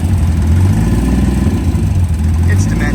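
The turbocharged slant six in a 1963 Plymouth Valiant, newly fitted with EFI and hesitating on throttle, idles with a steady low rumble, close and loud throughout, with a voice faintly present beneath it.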